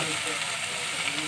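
Ginger and garlic fry in a pan of lightly browned ingredients for a chicken stew, giving a steady, close hiss of sizzling oil under a voice talking.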